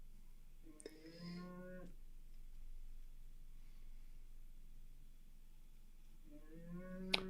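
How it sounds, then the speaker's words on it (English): During a French Open tennis broadcast, a cow moos twice, once near the start and again near the end. Both calls are faint and drawn out over a steady background hiss. "What's with that cow?"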